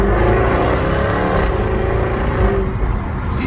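A Jaguar F-Type R's engine revs, rising and falling in pitch through several gear changes, a deep, loud, continuous growl heard from close by.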